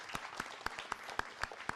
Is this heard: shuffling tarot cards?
no